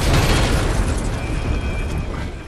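A fiery explosion in the video game Godfall, a loud broad booming roar that swells at once and rumbles on with crackling noise, slowly easing off over a couple of seconds.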